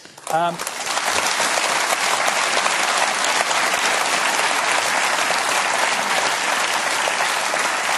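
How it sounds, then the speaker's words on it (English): Sustained loud applause from a large studio audience at a televised budget special panel show, steady dense clapping filling the whole stretch after a brief voice at the start. "I was just about to say give him a huge round of applause, but you did that spontaneously."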